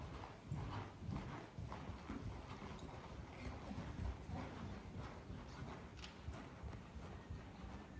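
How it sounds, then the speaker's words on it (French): Horse hooves canter steadily across a riding arena at a right-lead gallop, a continuous rhythmic drumming of soft footfalls throughout, close and moderately loud with no talk. "j'ai demandé le départ au galop à droite"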